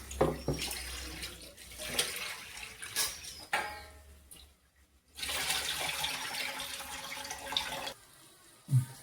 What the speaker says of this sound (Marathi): डाळ आणि तांदूळ हे नेहमी स्वच्छ धुवून घ्यावे, कारण त्यांना पावडर वगैरे लावलेली असते ना.